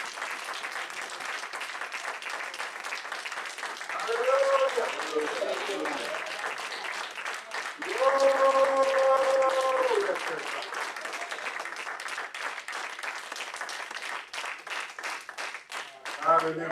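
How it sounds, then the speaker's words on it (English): A church congregation applauds a man during a service, a steady patter of many hands lasting well over ten seconds, with voices and a sustained tone rising over it in places. "Come on, let's give him a clap."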